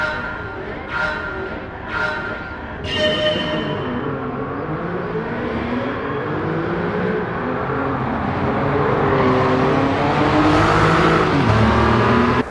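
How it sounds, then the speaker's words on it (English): A Porsche 959 hypercar engine sounds close and loud, a few sharp clicks at first, then a sustained rising drone that swells toward the end. "This is a Porsche 959, the original 211 miles an hour Porsche."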